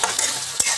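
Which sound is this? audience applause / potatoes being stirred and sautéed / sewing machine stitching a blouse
potatoes being stirred and sautéed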